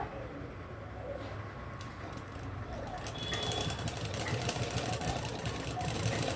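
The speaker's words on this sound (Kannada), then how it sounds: "ನೀಟಾಗಿ ನಾನಿಲ್ಲಿ ಸ್ಟಿಚಿಂಗ್ನ ಹಾಕ್ಕೊತಾ ಇರುವಂಥದ್ದು" A sewing machine stitches a sleeve onto a ready-made dress, its motor whirring and clattering softly, then running louder and faster in a continuous rapid stitching rhythm from midway on.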